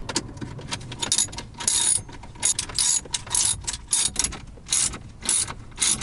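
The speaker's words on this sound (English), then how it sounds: "We're now going to remove these 3 screws here, which should take off the airbag switch." A ratchet backs out the three screws holding the airbag switch on a 2000 Honda Civic, giving bursts of close, crisp pawl clicking separated by short pauses, with no talk.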